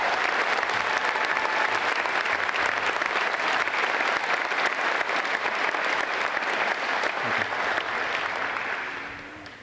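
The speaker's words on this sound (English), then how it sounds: "One more round of applause, please." Sustained audience applause fills a law enforcement academy graduation ceremony, a dense, steady wash of many hands clapping for the honored graduates that holds at full strength before tapering off near the end.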